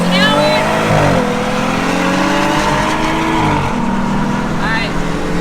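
A Jeep Wrangler JLU, re-geared and fitted with upgraded brakes, accelerates toward 50 mph, its engine note climbing steadily and loud throughout, with brief voices mixed into the cabin noise.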